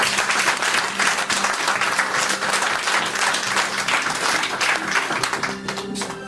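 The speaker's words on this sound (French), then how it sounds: "On doit acclamer le Seigneur." A church congregation applauds to acclaim the Lord, a steady, loud wash of clapping with some cheering that carries on throughout and fades slightly at the very end.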